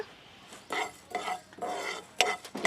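Whole cloves, cinnamon sticks and coriander seeds are dry-roasted in a pan, giving several soft scraping, rustling stirs that come in short, separate strokes with quiet gaps between them and no voices.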